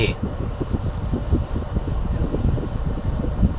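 Steady broadband whoosh of a 2020 MG3's cabin air conditioning fan blowing continuously and fairly loud inside the car, with no talking over it.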